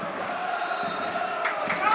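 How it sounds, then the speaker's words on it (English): A football stadium crowd gathers on a Glasgow evening for Thistle against Airdrie, a steady distant hum of voices with a few louder shouts and thumps rising near the end. "An expectant crowd has gathered."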